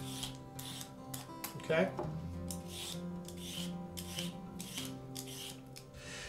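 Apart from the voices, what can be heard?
peeling carrots into long strips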